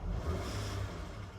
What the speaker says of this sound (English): See how it ribs.